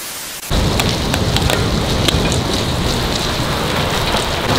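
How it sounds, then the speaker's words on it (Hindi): Steady heavy winter rain in Delhi pours down, a dense continuous hiss of drops hitting surfaces, with a few louder splatters and no voices. "ऐसी वही बारिश है ना दिल्ली में, होती है बहुत कम,"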